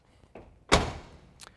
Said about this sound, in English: both doors open and close real easy